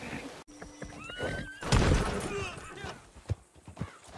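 A horse in the video game Red Dead Redemption 2 whinnies loudly up close, its rising and falling neigh mixed with hoof clip-clops and other game sounds, while a person talks over it.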